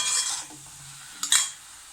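Chopped mushroom masala sautéing in a pan, with short bursts of sizzle and a stirring scrape near the start and again just past the middle, quiet in between.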